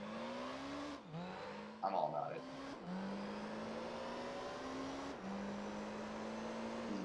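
A Toyota Altezza engine in the Gran Turismo 3 racing game drones steadily at high revs, with short dips at gear shifts, while someone talks over it.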